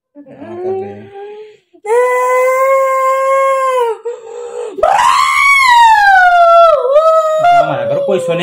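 A woman imitates a dog howling, drawing out long, loud, wavering howls and screech-like wails that rise and fall, with short pauses between them.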